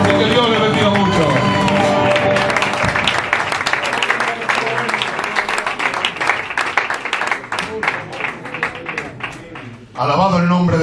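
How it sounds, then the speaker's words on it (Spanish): A church congregation at a Spanish-language evangelical service applauds and cheers loudly for about ten seconds, a dense sustained roar of clapping and voices that fades near the end before speech resumes. "Ese aplauso para el Señor"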